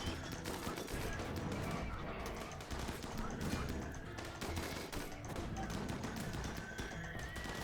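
Gunfire crackles in the video game Rimworld as colonists open fire, a dense, continuous clatter of shots mixed with other busy game noise at a fairly low level.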